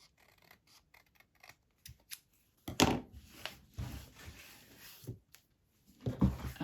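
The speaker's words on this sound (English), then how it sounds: "I feel like I have a little white showing through over here that I need to trim off." Scissors trimming excess white paper off the edge of a handmade Christmas journal tag, giving a few soft snips, then a louder, longer cutting stroke and more rustling cuts close up.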